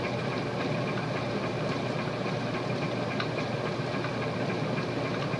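Emerson Longnose 56-inch antique ceiling fan motor running with a worn shaft: a continuous steady mechanical hum with light rattling texture, even and unbroken throughout.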